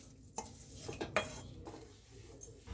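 Spoon scraping and clinking against a pan as gund ladoo mixture is stirred off the flame, soft irregular scrapes with a few sharper metallic taps, close and fairly quiet, no talking.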